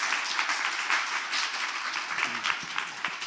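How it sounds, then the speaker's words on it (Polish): Audience applause at the end of a lecture at a literary and cultural meeting, a steady wash of many hands clapping, moderately distant, with faint speech at the end. "Bardzo proszę o brawa."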